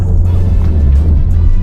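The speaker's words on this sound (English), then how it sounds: "It has just enough of that like turbo whoosh and boosh" Steady low engine and road rumble from a 2025 Subaru WRX with a turbocharged engine and all-wheel drive, heard from inside the car at close range with a constant drone throughout.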